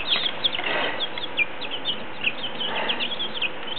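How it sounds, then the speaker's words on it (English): Small chicks peeping and chirping while they eat ground corn, a brood of high cheeps scattered through the moment near at hand, with no talk. "Little chicks are eating."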